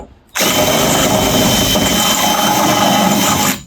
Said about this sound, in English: drill with a drill bit and literally just pass it back